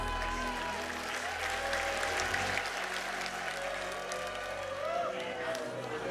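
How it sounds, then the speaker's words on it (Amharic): A church congregation clapping together at a worship service, a dense, continuous wash of hand claps filling the room, steady and moderately loud with voices mixed in. "አጨብጭቡ ለጌታ"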